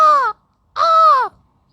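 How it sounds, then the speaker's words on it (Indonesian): Two loud, harsh caws from a crow, separated by a short pause, each one drawn out and hoarse, with no other sounds around them. "burung gagak"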